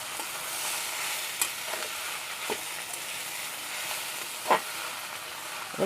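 Chichinga (snake gourd) stir-fried with dried shrimp in a pan: a steady, even sizzle and hiss of frying throughout, with a few sharp scrapes of the spatula scattered across it. No one speaks.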